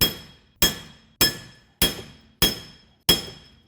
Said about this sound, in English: Same thing, begin smashing.